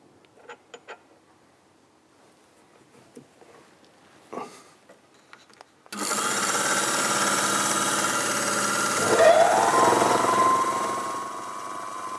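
A workshop part on a BSA Gold Star motorcycle is spun up to check that it runs true. After a few faint clicks and knocks, a loud steady motor hum starts, holds, then briefly rises with a whine.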